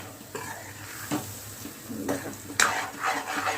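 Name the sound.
matki sprouts and potato frying in oil with spices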